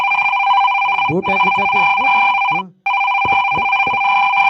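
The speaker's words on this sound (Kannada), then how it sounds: "ಅಲ್ಲೇ ಮಗನ ಫೋನ್ ಬತ್ತು ನೋಡಿ ಫೋನ್ ತೆಗಿ" A phone ringtone rings loudly and repeatedly in a steady pulsing pattern, cut off briefly near the end, while people talk over it.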